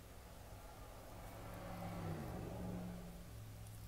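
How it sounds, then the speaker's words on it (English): Passing road traffic outside: a steady low engine rumble and tyre hiss, swelling slightly as a vehicle goes by near the middle, heard faintly through a room. "Sorry about the traffic noise."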